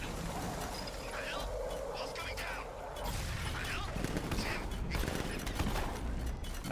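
Gunshots in the survival game Palworld, scattered bursts of fire at moderate distance under a steady game background, with a voice talking over parts of it.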